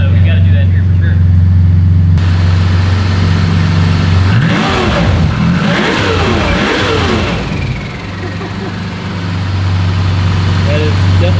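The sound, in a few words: Smokey Nagata's V12 Toyota Supra engine revving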